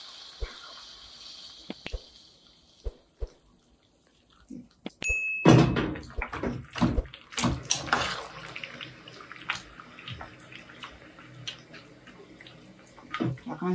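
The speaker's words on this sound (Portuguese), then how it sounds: "agora vou colocar água quente" Hot water poured from a kettle into a pot of pasta for a creamy one-pot dish, a sudden rush of splashing and clunks after a quiet stretch, then steady running and sloshing with a few knocks, close and fairly loud.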